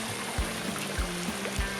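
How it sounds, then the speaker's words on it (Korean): Cool, clear stream flowing on a backpacking route in Norway, a steady close trickle and babble of water with a few soft low knocks, no voices. "시원한 시냇물에,"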